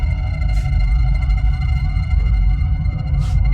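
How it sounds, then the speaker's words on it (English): A wailing siren rises and falls steadily over a loud, low rumbling drone, continuous and fairly close. "That siren."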